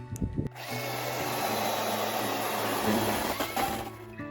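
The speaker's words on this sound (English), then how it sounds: "Mark is warming up the Milwaukee." A Milwaukee power tool whirs up and runs at a steady, loud, high-pitched drone for several seconds beside a log splitter used for firewood, ending with a few clicks.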